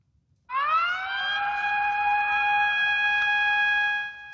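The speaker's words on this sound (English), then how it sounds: "Sirens blared in one coastal area, followed by tsunami warnings that were later downgraded." A single siren wail blares in a Japanese coastal area, rising quickly and then holding a steady, loud, harmonic-rich tone for several seconds before cutting off.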